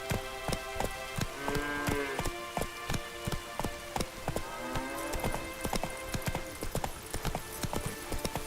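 Horse hooves galloping in The Witcher 3, a fast steady clip-clop rhythm heard close throughout, with faint game sounds layered beneath.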